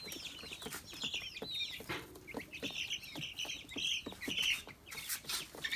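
Chicks on a farm cluck and chirp continuously at close range, with many overlapping peeps and soft clucks and occasional handling bumps.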